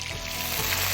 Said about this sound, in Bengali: এটা দিয়ে দিলাম, এটা একটু নাড়িয়ে নিই আমরা।